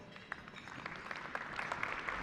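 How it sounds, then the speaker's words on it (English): Audience applause at a space industry conference, a steady spread of clapping from a crowd, fairly faint and distant, building slightly over a couple of seconds. "So with that, I would like you to all give yourself a round of applause."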